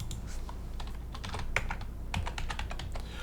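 Steady typing on a computer keyboard during manual data entry into a form, a continuous run of quick, close key clicks with a few louder strokes, no voices.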